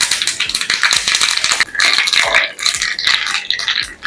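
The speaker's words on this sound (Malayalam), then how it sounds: "അതിലേക്ക് കടുക് ഇട്ട് കൊടുക്കണം" Mustard seeds crackle and pop in hot coconut oil, a dense, continuous run of sharp spluttering bursts, loud and close, with no talk.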